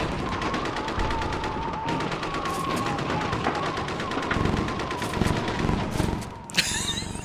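Dense, rapid automatic gunfire in a video game, machine-gun bursts and shots overlapping continuously at close range, with a sharper burst near the end.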